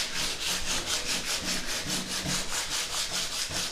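Sanding a PVA, sawdust and chalk wood filler with 80-grit sandpaper by hand, a steady rhythmic rasping of back-and-forth strokes, close and continuous with no talking.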